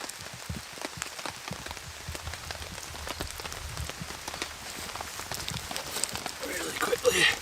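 Steady patter of rain on a surface at a woodland campsite, a dense crackling wash of drops that swells slightly louder near the end.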